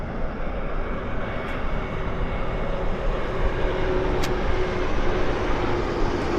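A new Qantas Airbus A220 airliner touches down at Vancouver Airport, its engines a continuous, fairly loud roar at a distance, steady with a faint whine running through it.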